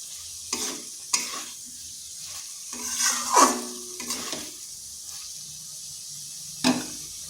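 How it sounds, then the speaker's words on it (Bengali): Gathi kochu (taro) being stir-fried in oil with cooked spice paste: a few separate bursts of sizzling and scraping stirs, close by, with quiet gaps between them. "মশলাটা কষানো হয়ে গেছে আর গাঁঠি কচিগুলোও দিয়ে দিলাম এরপর এটাকে বেশ কিছুক্ষণ সময় ধরে কষিয়ে নিতে হবে"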